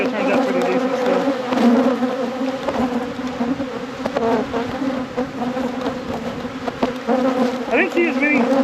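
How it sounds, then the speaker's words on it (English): Honeybees swarm in a dense, continuous buzz around an opened hive during a deep inspection after winter, the drone loud and close with individual bees passing near, steady throughout. "all these bees are going crazy right now"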